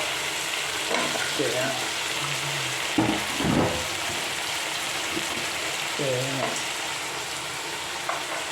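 Tomato, onion and coconut pieces frying in a pan for a Kerala mezhukkupuratti, a steady sizzle with a few stirring clatters and scrapes; a voice talks faintly over the cooking.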